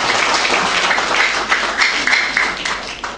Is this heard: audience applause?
yes